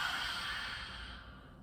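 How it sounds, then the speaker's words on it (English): One slow breath is let out through an open mouth during a gentle yoga and Pilates session. The exhale is soft and airy, close to the listener, and tapers off over under two seconds. "Open mouth, exhale, let it go."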